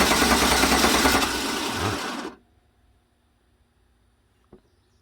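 A 2009 GM truck engine cranks without starting: a loud, steady mechanical churning for a couple of seconds that cuts off abruptly into near silence, followed by a single faint click.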